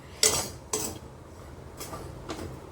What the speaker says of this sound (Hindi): मैं यहाँ सूजी पे सूजी भूने जा रही हूँ